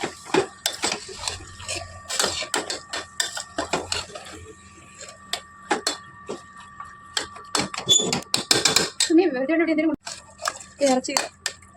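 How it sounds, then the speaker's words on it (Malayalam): A spoon scrapes and clanks against a pot as beef curry with masala is stirred, giving irregular sharp metallic knocks through the whole stretch, with a person talking in between. "ഇറച്ചിയിലോട്ട് മസാല എല്ലാം പിടിച്ചിട്ടുണ്ട്. ഓൾമോസ്റ്റ് ഫുൾ മസാല ഇറച്ചി പിടിച്ചിട്ടുണ്ട്. ഇളക്കിക്കൊണ്ടിരിക്കുകയാണ്."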